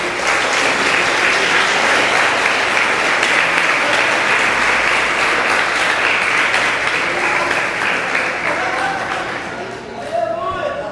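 A church congregation applauds, a loud, continuous wash of clapping that holds steady and then tapers slightly toward the end, with voices faintly mixed in.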